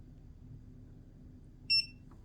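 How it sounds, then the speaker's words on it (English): An EcoFlow Delta Pro power station gives a single short, clear electronic beep during remote pairing, heard alone against a quiet room hum. "I heard a beep."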